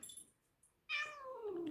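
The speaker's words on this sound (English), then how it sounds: "Oh, sumagot ang pusa." A cat gives a single clear meow in reply, close and fairly loud, following a brief near-silence with faint rustling.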